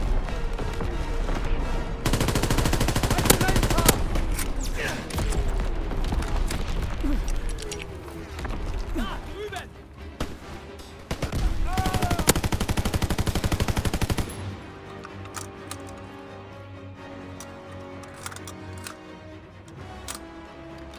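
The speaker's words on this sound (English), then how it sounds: "Incoming enemy artillery! Get to cover!" Heavy video game gunfire fills a war game, with rapid machine-gun bursts, explosions and crackling shots in dense loud volleys, easing into quieter scattered firing near the end.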